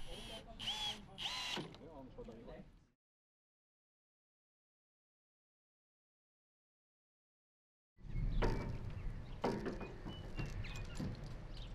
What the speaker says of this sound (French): Nous coinçons alors les profilés dans la bonne position et les vissons au bois via les trous prévus.